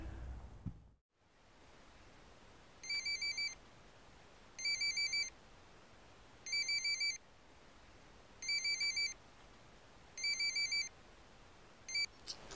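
Telephone rings in six evenly spaced electronic trilling bursts over a faint hiss, clear and moderately close, with no talking.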